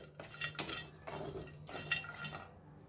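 Coconut pieces roasting in a pan over a low flame, stirred with a spatula in a few soft scraping, clinking strokes, quiet and close.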